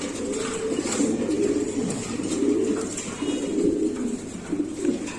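A rare, large Andalusian Beauty fancy pigeon coos while held in the hand at a loft. Low, rolling coos repeat in steady phrases, close up, over faint background noise.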